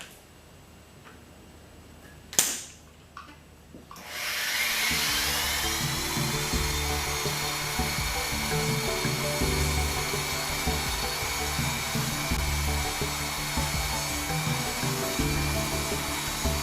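A bead roller rolling a long metal kick plate: after a quiet start with a sharp clank, a steady whirring, clattering mechanical drone starts at about four seconds and continues evenly, close and fairly loud, with no talk.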